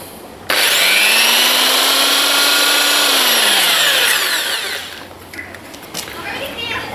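A power drill with the hammer function switched off drills a hole, a loud steady whine that holds for several seconds, shifts pitch as it slows, then fades into quieter handling sounds.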